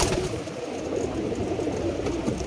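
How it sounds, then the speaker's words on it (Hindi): A pigeon coos softly nearby, a low throaty warble repeating over faint background noise. "ये एक कबूतर है भाई,"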